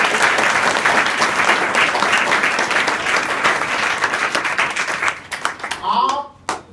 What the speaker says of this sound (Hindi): ताली बजाओ उसके लिए।